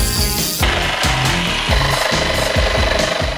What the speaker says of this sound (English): We'll be using a jigsaw and a sander. Now that we have everything measured out, we're going to go ahead and cut those edges.